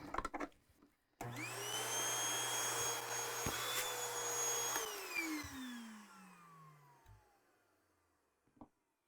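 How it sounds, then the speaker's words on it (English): A Sanitaire S3681 upright vacuum cleaner switches on with a loud, steady motor roar and a high whine that sustains for a few seconds, then spins down in a falling pitch after it is shut off, heard close and alone. "let's go ahead and run it real quick"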